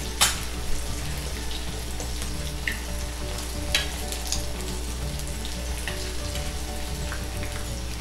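Egg potato balls pan-fry in a modest amount of oil, giving a steady, close sizzle with occasional louder pops and crackles throughout, no voices.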